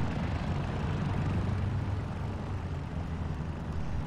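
A helicopter in the military game Arma 3 drones close by with a low, steady rotor and engine rumble that holds alone without talk.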